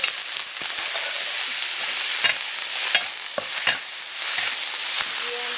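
Star jelly (Nostoc) stir-fried with eggs in hot oil, with a little chili added, gives a steady close sizzle broken by several sharp scrapes and clacks of a spatula against the pan.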